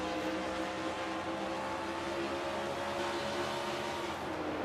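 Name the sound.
race car engine, on-board with Phil Parker's car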